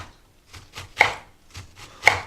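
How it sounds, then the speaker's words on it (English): A knife chopping onions on a cutting board, held together by hand and diced, with irregular close chops: a few light taps, then two sharper louder strikes about a second apart. "I have an unorthodox way of cutting the onions, I'll be honest with you."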